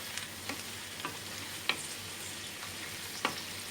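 Curry leaves fry in hot oil for a spicy Andhra prawn pickle, giving a steady close sizzle broken by regular scraping clicks of a spoon stirring the pan, with no voices.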